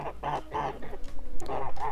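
Domestic chickens clucking close by, a run of several short rhythmic clucks with brief pauses between them, loud and clear with no talking.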